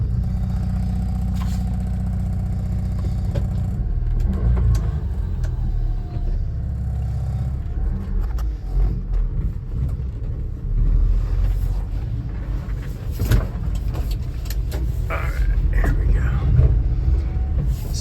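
Honda Acty mini truck on a test drive in Tennessee, a steady engine and road rumble with some revving and wind buffeting on the microphone throughout, under occasional speech.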